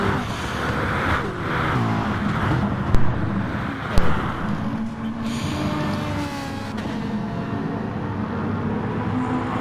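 Race cars lapping Circuit de la Sarthe in a racing video game, with a steady engine drone, rising and falling revs and a couple of sharp knocks, heard continuously and fairly loud with no voices.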